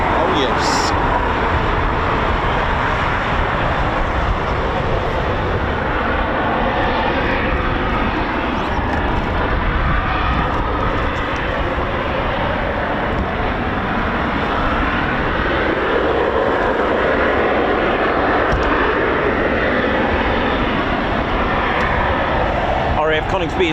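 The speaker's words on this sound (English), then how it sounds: "So the Typhoons have just started up with their EJ200 engines." Eurofighter Typhoon fighter jets with EJ200 engines run up at RAF Coningsby, a loud, sustained roar and whine holding steady throughout without letting up.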